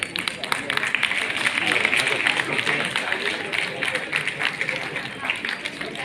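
Audience at a Devi Ahilya University convocation ceremony clapping steadily for several seconds, a dense, moderately loud patter of many hands with a murmur of voices mixed in.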